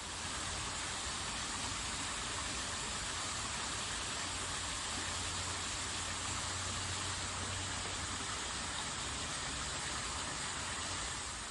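A waterfall on a rainforest trail in Costa Rica gives a constant, dense broadband roar, steady and unbroken throughout, with no voices.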